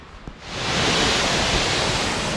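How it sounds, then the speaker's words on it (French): Water rushes and roars steadily at the head of a waterfall cascade, a loud continuous broadband wash that swells in within the first half second and holds. "on se trouve à la naissance de la chute de la cascade"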